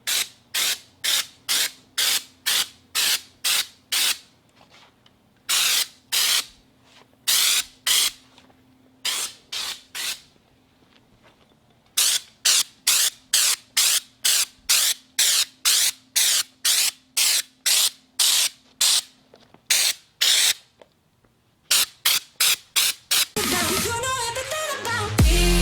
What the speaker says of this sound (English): he's going to go ahead and get started on spraying it now